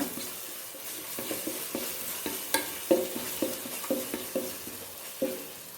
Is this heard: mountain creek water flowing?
no